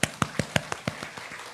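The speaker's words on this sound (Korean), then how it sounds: "먼저 영광의 박수를 드리겠습니다." About nine slow, evenly spaced claps from a church prayer meeting that fade gradually, loud at first and softer toward the end, with no voices.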